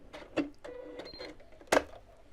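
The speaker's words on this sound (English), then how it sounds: "I'm just going to sew about 1 inch or so just along the side" A sewing machine stitches about an inch along the side of a piece of fabric in short mechanical bursts with clicks and a sharp clack, close and moderately loud, with no talking.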